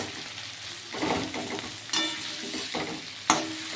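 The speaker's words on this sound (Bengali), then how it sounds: "টমেটো আর পেঁয়াজ দিয়ে ভাজা ভাজা হচ্ছে" Tomato and onion fry in a pan, with a soft, close sizzle and several brief bursts of stirring and scraping.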